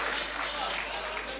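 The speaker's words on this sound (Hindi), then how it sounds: "एक बार इस हमारे भाई मुजीब के लिए जोरदार तालियां।" A mushaira audience at Itwa in 2019 breaks into loud, dense applause, a steady wash of many hands clapping that fills the whole moment.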